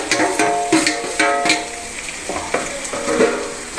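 Bitter gourd tossed into fried onions in a pan, a steady sizzle of frying under repeated scraping and clacking strokes of a spoon stirring, close and fairly loud, no voices.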